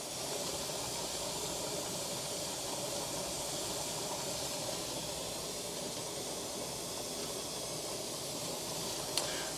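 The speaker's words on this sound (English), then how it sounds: "I am getting a good, consistent level of steam coming out of the vent" Steam hissing steadily from the vent of a canner while cold pack canning chicken, a constant soft broadband hiss with no breaks and no voices.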